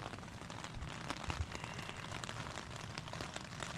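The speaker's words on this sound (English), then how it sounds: "Still raining." Rain patters steadily on a tent during a solo wild camp, a close, even crackle of drops with a few louder taps, no talk.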